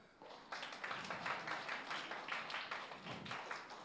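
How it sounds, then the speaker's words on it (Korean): Young first-grade children in a Korean Bible lesson clap in a steady rhythmic pattern for a few seconds, fairly quiet and close, with no talking over it. "박수"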